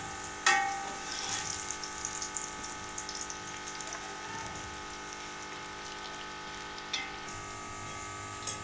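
Onions fry in a pan until golden brown, giving a steady, quiet sizzle and crackle nearby. A few sharper pops and stirring clicks break through the continuous hiss.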